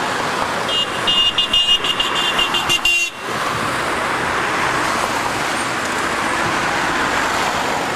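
A white box van goes by in busy street traffic by the East Side Gallery in Berlin. A short run of horn toots rises over a constant loud roar of road noise, and the horn is cut off abruptly partway through.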